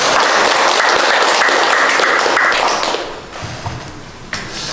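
Audience at a listening-session meeting on construction workers bursting into lively applause that fades away after about three seconds, leaving a few scattered claps and room noise.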